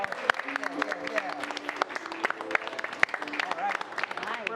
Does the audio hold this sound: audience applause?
yes